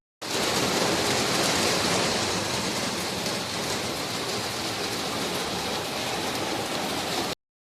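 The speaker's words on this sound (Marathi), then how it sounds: "बाहेर बघतोय तर पाऊस पडतोय, आणि ते पण साधं सुद्धा नाही, बघा कसा पडतोय." Heavy rain pours down in a loud, constant roar, with a dense patter of drops on surfaces throughout.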